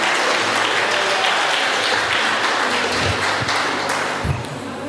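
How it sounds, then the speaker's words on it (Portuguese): A church congregation applauding during a sermon, dense sustained clapping that fills the clip and fades slightly near the end. "Você pode dar uma salva para o Senhor? Palmas para o Senhor."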